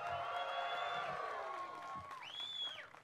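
A crowd cheers and whoops at a Bassmaster fishing weigh-in in Orange, Texas, with raised voices and long rising shouts swelling and fading, fairly faint and blended into a distant roar.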